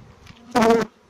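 Honey bees from a young colony in an apiary hive: a single brief, close, loud buzz swells for a fraction of a second, with only faint background before and after.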